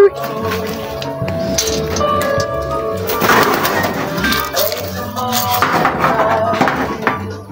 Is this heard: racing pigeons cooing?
yes